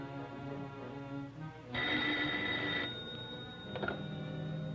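An old-fashioned telephone bell rings in a burst of bright metallic jangling for about a second, heard over a background of dramatic orchestral music from a vintage radio-style serial.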